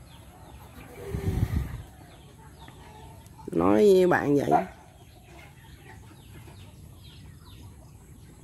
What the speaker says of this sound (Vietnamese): thấy không, gà tôi nè